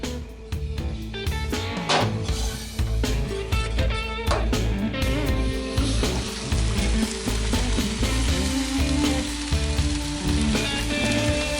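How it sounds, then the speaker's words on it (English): Spareribs sizzling hard in a smoking-hot pan with soy sauce, a loud continuous crackle and spatter with scattered utensil knocks and stirring scrapes, close up and without talk. "Ribs are smoking up pretty good."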